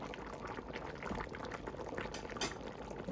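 Beef and vegetable stew, nilagang baka, boiling steadily in a pot, with a continuous close bubbling and light liquid churning that carries on alone at low volume.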